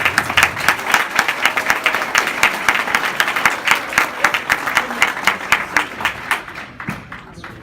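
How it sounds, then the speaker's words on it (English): An audience at a school event applauds its teachers with rhythmic, fairly quick group clapping that stays steady at moderate loudness before thinning out at the end. "everybody give your teachers a great big round of applause"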